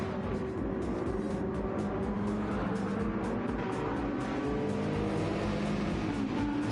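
Race cars in Gran Turismo 7 roar past in a steady, continuous engine drone, one car drifting with faint tire squeal, the sound staying fairly even and close with no voices over it.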